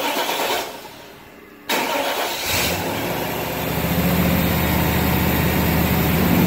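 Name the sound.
1998 Chevy 5.7 Vortec engine starting and running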